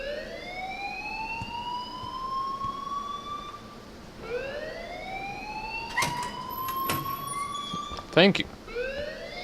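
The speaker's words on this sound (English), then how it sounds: "please turn off that alarm since that's your job" A wailing siren-like alarm sounds in the video game Life is Strange, rising sweeps repeating under talk, with sharp clicks and a brief thud near the end.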